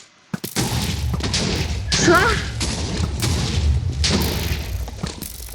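Booming explosions in Minecraft, set off by a command-powered bow that fires meteors, come as a steady string of loud, overlapping blasts and crashes that fill the whole stretch.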